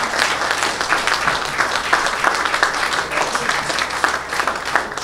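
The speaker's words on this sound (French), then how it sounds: "J'aimerais qu'on l'applaudisse très fort." Warm, continuous applause rises from an audience at an official French 8 May commemoration ceremony, steady clapping at moderate loudness without speech on top.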